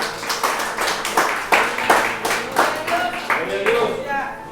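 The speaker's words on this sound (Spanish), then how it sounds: "Dele un fuerte aplauso" A church congregation applauding during a Spanish-language worship service, with steady, rhythmic clapping of many hands close by, rising and falling in regular beats.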